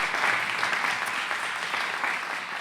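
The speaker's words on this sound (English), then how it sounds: "Let's give them all a big round of applause." Sustained applause from a crowd at a school board meeting, steady clapping filling the whole stretch at a fairly loud, even level.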